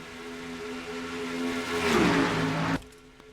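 Race cars in an IROC-style oval racing video game at Michigan roar together as a pack entering turn one, a steady loud engine drone with a swelling, pitch-shifting whine near the end before cutting off abruptly.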